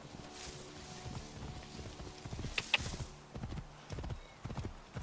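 Horse hooves clip-clop in the video game Assassin's Creed Origins, a steady walking rhythm of quiet, close hoofbeats with a faint whinny partway through.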